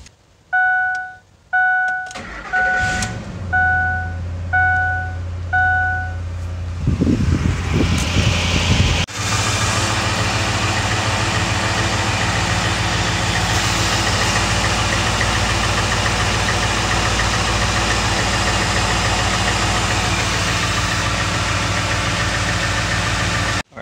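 A 2005 Ford F150 with a stalling, stumbling fault: a series of dashboard warning chimes, then a brief starter crank that catches, followed by a steady, close idle rumble that runs on evenly to the end.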